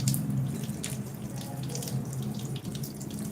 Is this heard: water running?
yes